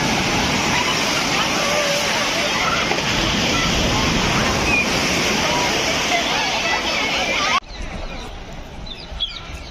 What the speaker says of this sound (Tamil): பெரிய அலையாக வருது.